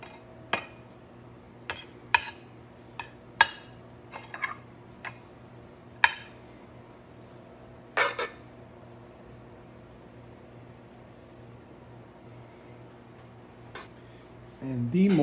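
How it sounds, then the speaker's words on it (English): A spoon scraping and clinking against a plate while hot rice is served, giving a series of sharp, spaced metallic taps over several seconds followed by a brief louder clatter, with a faint quiet room behind. "So we're gonna serve a nice portion of rice."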